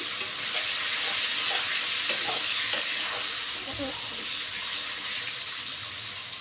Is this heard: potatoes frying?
yes